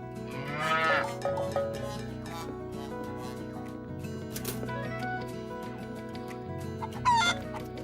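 A cartoon cow moos amid clucking chickens and other farm animal sounds, over a steady musical background with no speech.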